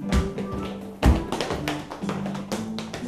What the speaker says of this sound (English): I can stamp my feet.